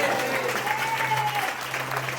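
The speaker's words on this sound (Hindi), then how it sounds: "आमीन बोलो ताली बजाकर।" A church congregation claps loudly and continuously together while voices call out amen, a dense wash of applause filling a large room.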